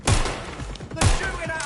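Two sharp, heavy gunshot volleys, about a second apart, in the video game Watch Dogs: Legion, each followed by a rattling tail, with a voice faintly under the shots.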